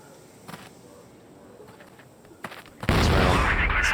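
Gunfire in the shooter CrossFire during an esports match: a few scattered shots early on, then a sudden loud burst of sustained rapid fire that continues to the end.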